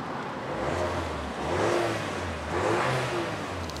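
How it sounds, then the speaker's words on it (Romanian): A Mercedes A-Class with a 1.3-litre 136 hp hybrid engine revs twice in smooth rising swells over a low idle hum, fairly quiet and recorded up close. "Hai să vedem exact cum se aude și motorul ăsta la A-Class."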